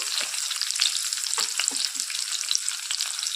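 Onions and green chillies frying in oil in a pan for homemade paneer masala, a loud, continuous close sizzle with scattered crackles and soft stirring scrapes, no voices.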